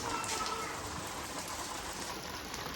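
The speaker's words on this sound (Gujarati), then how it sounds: "વરસાદ પણ ચાલુ થઈ ગયો છે જોરદાર" Heavy rain pours down at a farm, a dense, steady hiss of drops striking surfaces that fills the whole clip with no voices.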